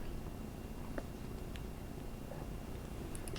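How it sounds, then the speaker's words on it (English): A pet cat purrs close by as a low, steady continuous rumble, with a few faint clicks and small bumps over it and no talking. "There's Kitty."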